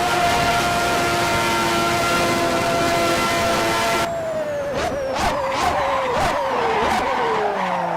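Simulated F1 car racing around Suzuka in a video game, engine tone steady, then shifting and dropping with gear changes, with loud skid-like bursts in the second half and no talking.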